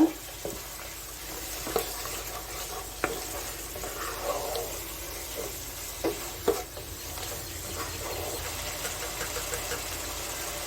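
Fresh curry leaves are stirred into prawns and okra frying in a pan: a steady broadband sizzle with intermittent sharp scrapes and clacks from the stirring utensil, close by, with no talking.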